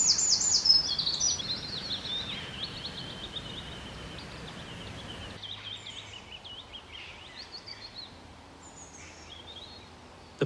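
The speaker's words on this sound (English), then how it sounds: "The pond is teeming with life. You can hear the buzz of insects" Outdoor summer pond and bog ambience with many birds chirping and calling, busy near the start and thinning later, over a low, steady natural background hum; no voices.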